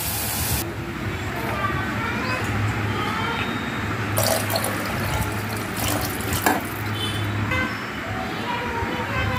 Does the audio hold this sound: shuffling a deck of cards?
no